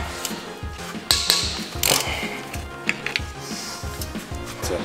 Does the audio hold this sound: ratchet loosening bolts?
yes